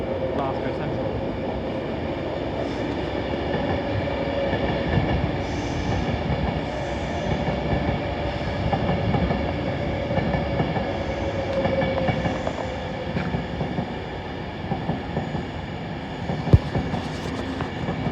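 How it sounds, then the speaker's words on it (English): An Avanti West Coast service bound for Glasgow Central passes at Primrose Hill, a steady rumbling roll of rail traffic with faint wheel squeal that holds evenly loud for the whole stretch, with no pause or fade. "Here comes the 1810 Avanti West Coast service to Glasgow Central."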